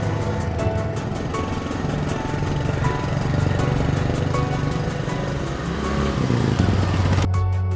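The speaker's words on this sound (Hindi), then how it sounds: "पॉटी बॉय शॉन स्कूटर बहुत तेज चला रहा है।" A scooter engine driving fast in an animated horror cartoon, a steady loud motor drone running throughout with a brief change near the end.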